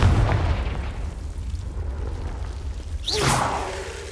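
A Confringo fire spell goes off in the Hogwarts Legacy video game: one sharp swooshing burst with a booming explosive flare near the end, over a steady low rumble of game ambience.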